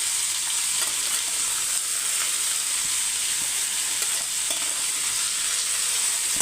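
Onions sauté in hot oil in a pan while making a Tamil prawn and drumstick curry, a continuous close sizzle with faint stirring scrapes and no talk.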